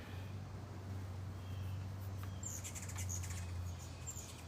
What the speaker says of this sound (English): Oh, we got all kinds of birds.